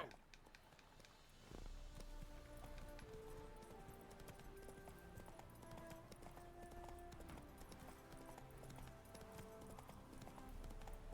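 Steady clip-clopping of horse hooves at a running pace in The Witcher 3, fairly loud, over layered game music and ambient sound that starts after a brief quieter opening.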